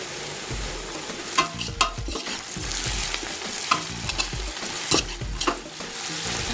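Onions being fried for chicken korma sizzle steadily in a pan, close and clear, while a spoon stirs and scrapes in repeated irregular strokes, with no voices.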